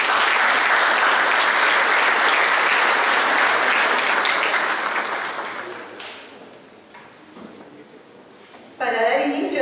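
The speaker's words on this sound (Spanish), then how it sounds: "Para todos ellos pido un fuerte aplauso." A ceremony audience claps loudly and densely at the opening of an inauguration event. The applause is sustained for several seconds, then thins and fades, and a voice begins speaking at the end.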